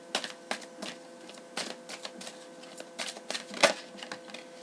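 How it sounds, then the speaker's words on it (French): Tarot cards flipped and shuffled on a table, a run of quick, crisp papery flicks and taps in irregular bursts, close and fairly quiet, with no voices. "Il y a des cartes qui se retournent."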